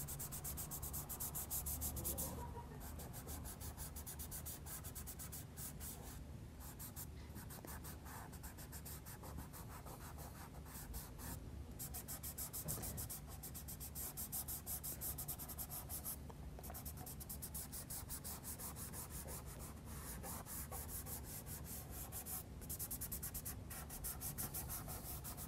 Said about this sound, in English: So I use a finger here and just start smudging these background colour in.